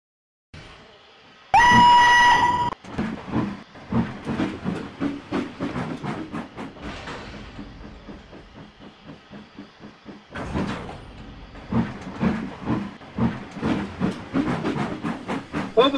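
A train passes in the Trainz railway simulation game, with a sharp whistle blast near the start followed by steady rhythmic chuffing and rail clatter that fades, then swells again, loud and close.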